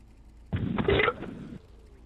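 A burp picked up by a headset microphone during an online iRacing sim-racing session, one short throaty belch of about a second, fairly loud and close, alone with no talk.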